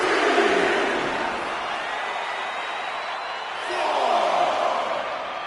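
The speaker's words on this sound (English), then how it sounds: "Zayn drawing a big reaction from the crowd" Roaring arena crowd in the WWE 2K26 wrestling video game, cheering Zayn in a broad, steady wash that swells louder at the start and again near the end, with commentary voices over it.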